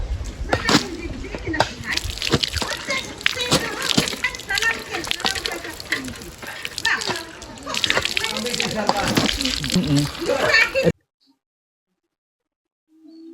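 Water splashing as someone washes their face at home in a rural tribal household, with busy sloshing and splatter throughout, then sudden quiet near the end; speech-like sounds mix in with the water.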